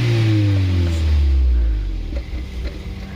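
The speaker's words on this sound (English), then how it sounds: "Rev it for me? Let's go listen to the exhaust." A 2011 Seat Leon Copa 1.2 TSI engine revs up and then settles, with a deep, muted exhaust gurgle close by that drops in pitch and eases off.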